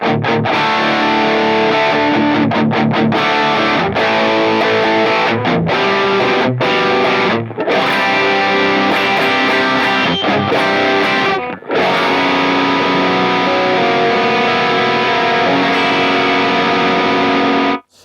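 Heavily distorted electric guitar plays dense, sustained chords through a high-gain Mesa/Boogie Mark IIc+ amp, loud and continuous, with a couple of brief stops between phrases.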